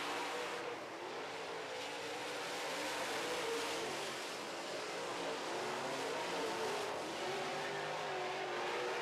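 Modified stock cars racing in a heat on a dirt oval, engines roaring continuously and loudly as the pack drives down the back straightaway, with rising and falling revs and no speech.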